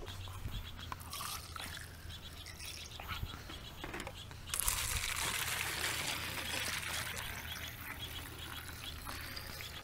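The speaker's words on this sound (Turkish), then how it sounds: "Şimdi şerbet katacağız şişelerimize." Sugar syrup is poured into bottles for feeding bees, a soft liquid trickle that swells into a louder, steadier pour midway through, heard close with faint background noise.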